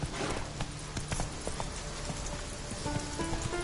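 Hooves of Roach, a horse in a PS4 video game, pound in a quick, steady galloping clip-clop that runs the whole way through, close and fairly loud over a rainy, hissing game backdrop.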